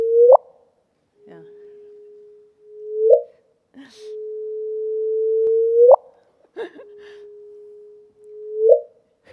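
Sustained pure electronic tones that each end in a quick upward chirp, repeating three times with faint background noises in between. A sonification of a black hole merger, with rising pitch.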